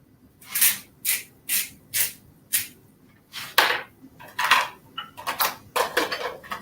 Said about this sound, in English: So what I'm trying to do right now is saute these vegetables.